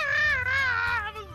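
A cat gives one close, drawn-out meow lasting just over a second, clear and fairly loud against a low background hum.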